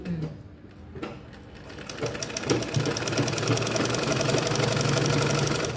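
A sewing machine runs steadily, stitching a thin seam along a dress neckline, starting with a few short bursts before settling into a continuous, fast mechanical whir.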